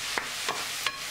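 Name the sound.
sautéing vegetables and meat in a pan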